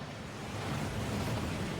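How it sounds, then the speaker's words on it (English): A rushing waterfall guarding the Gringotts vaults in the Hogwarts Legacy video game, a steady broad watery roar that swells slightly, brief and without speech. "That waterfall washes away all enchantments."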